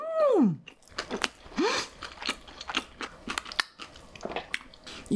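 Close, crisp chewing and crunching of rose chicken pizza with jalapeño and tomato comes in irregular bursts, opening with a couple of short whooshing sweeps before steady bites and mastication noises follow alone.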